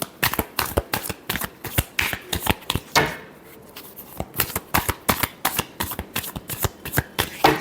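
Tarot cards are riffled and shuffled by hand in rapid, rhythmic bursts of crisp flicks, close and clear, with a short pause in the middle before the shuffling resumes.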